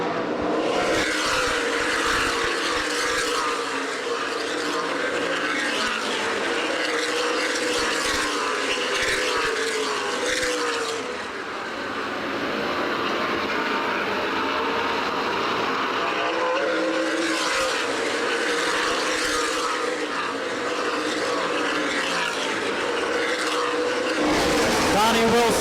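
Stock cars in a CRA Super Series 100 at Winchester Speedway roar steadily through a single-file restart, engines loud and continuous with a brief dip midway, under a race commentator's voice throughout.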